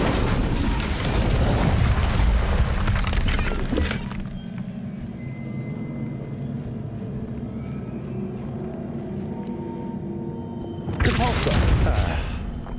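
In Hogwarts Legacy, an Incendio fire spell bursts with a loud roaring whoosh of flame, followed by a quieter stretch of low ambient rumble before another strong fiery burst near the end, with some faint talk mixed in.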